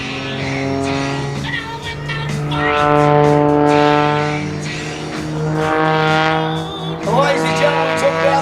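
Wolf Pitts Pro aerobatic biplane engine in a flat spin: a loud, harmonic propeller drone that swells and fades in slow cycles as the plane rotates, with the pitch wavering and brief bursts of wind noise.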